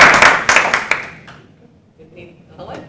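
Brief clapping from a community meeting audience at a parks and zoning work session, a short burst of hand claps that dies away within about a second, followed by quiet room tone.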